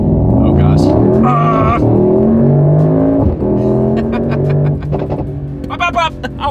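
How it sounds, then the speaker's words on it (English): A 2024 Mercedes-AMG GT 55 coupe accelerates hard down a straightaway, its loud engine climbing through the revs with gear shifts and sharp exhaust pops and crackles near the end, while a man exclaims over it. "There's pops on the exhaust note."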